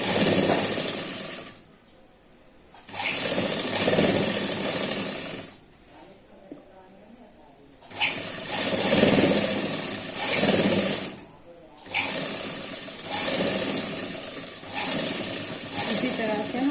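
A sewing machine stitches the sleeve of a kurti jacket in several steady whirring runs with brief pauses between them, and a person talks during the gaps.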